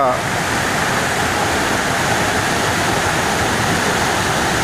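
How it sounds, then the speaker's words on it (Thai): Huai Mae Khamin waterfall's third tier, Wang Na Pha, roars in a loud, steady, broadband rush of falling water, continuous and close, with a voice briefly audible beneath it. "ตรงนี้จะเป็นน้ำตกชั้นที่สามนะครับ"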